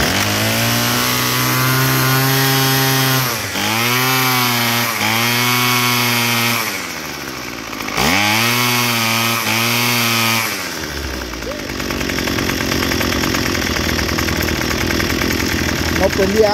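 A small carburetor engine with the choke just removed, a loud buzzing idle that rises and falls through several quick revs, then settles into a rougher, noisier run, heard close up.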